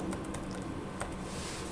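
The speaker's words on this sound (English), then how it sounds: "this is where you're going to type your message" A message is typed on a computer keyboard as a scattering of light, close key clicks over a steady low background hum.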